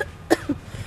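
One short, close cough with a small follow-up huff, from a person in a Nigerian movie scene, in a quiet room.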